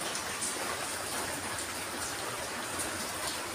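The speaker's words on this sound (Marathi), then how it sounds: "हे बघा इथून दिसतोय पाऊस." Steady rain falls outdoors, a dense even hiss of drops on surfaces that stays constant and fairly loud throughout, with no voices over it.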